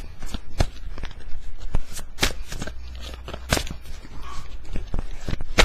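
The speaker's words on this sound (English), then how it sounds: "You can fast forward to the end of the shuffling if you want to." Tarot cards being shuffled up close in a series of sharp riffling bursts and soft slaps at an uneven rhythm, with quieter papery rustling between the louder hits and no talking.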